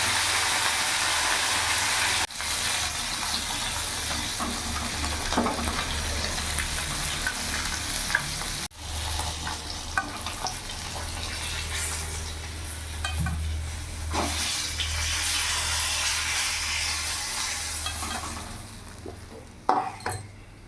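Sarpunti fish heads frying in hot oil give a steady loud sizzle, with pan scrapes and utensil clinks breaking through now and then, including a sharp clatter near the end.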